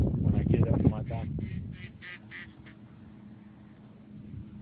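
A group of pet ducks quacks in a rapid series of short, nasal calls at moderate distance, over a low background rumble and some close noise at the start.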